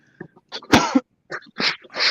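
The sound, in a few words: sneeze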